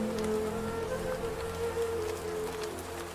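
Rain pours steadily onto a leaking house roof in a poor family's home, a dense continuous patter and hiss with a low steady hum beneath, no voices.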